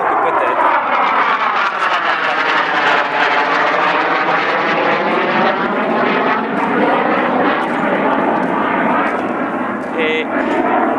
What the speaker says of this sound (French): le bruit de l'avion supersonique sera la fin de cette histoire.